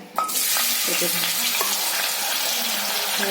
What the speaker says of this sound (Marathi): ते बोंबील ना असे छान तळून घेतले, फ्राय करून घेतलेला झाले माझे